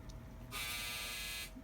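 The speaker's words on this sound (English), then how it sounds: "My buzzer just went off that my clothing is dry." A clothes dryer's short electronic buzzer sounds once for about a second, steady and harsh, fairly quiet against a faint background.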